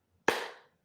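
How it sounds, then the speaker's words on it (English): One sharp hand clap, close and clean, with a brief ringing tail that fades within a fraction of a second. "Good volume to that clap"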